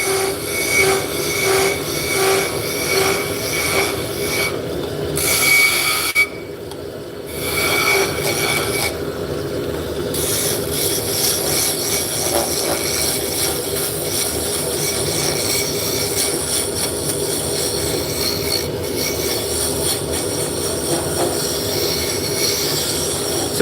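Wood spindle turning on a lathe and being cut with a skew chisel, giving a steady, close whirring hum with a high, screechy cutting tone. The cut drops out briefly in short pauses early on, then runs on evenly without talk.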